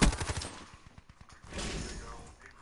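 Gunfire in Call of Duty: Black Ops 3, a quick rapid burst of automatic shots followed by a short rumble, with a player's voice speaking around it.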